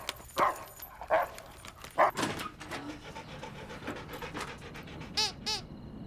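A dog barks and yips in several loud, close bursts with panting and whimpering between them, ending in two quick sharp yaps.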